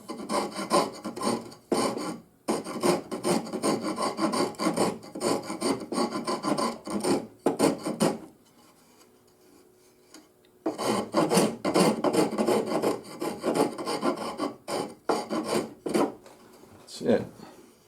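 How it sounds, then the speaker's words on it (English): Sandpaper rubbed by hand over a wooden hollow-and-round plane part gives repeated rhythmic rasping strokes in long close bursts, broken by a brief pause of near silence. "I'll hit it with some sandpaper"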